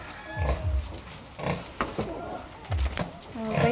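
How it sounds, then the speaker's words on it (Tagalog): Pigs on a farm giving several low grunts at irregular intervals, fairly close, with some snorting and background noise and people talking nearby. "Dito yung mga baboy ni ate."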